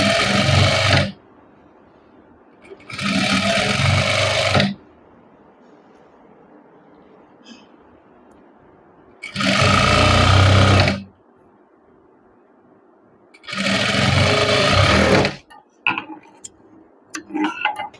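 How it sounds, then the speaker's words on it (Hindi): Sewing machine stitching pant fabric on the reverse side, running in four separate bursts of steady mechanical whirring of one to two seconds each, close and loud, with quiet pauses in between and a faint voice in the background. "तो उल्टी साइड पे ये लगा देते हैं हम सिलाई।"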